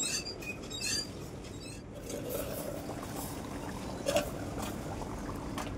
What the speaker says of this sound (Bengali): এবার দিয়ে দিলাম জল, গরম করে রেখেছিলাম গরম জলটা